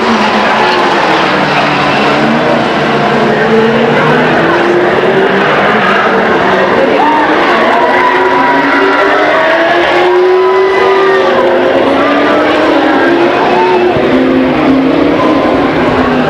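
Grand Am division stock cars racing at Stockton 99 Speedway in 1999, a loud, continuous roar of several engines with pitch rising and falling as cars pass close by.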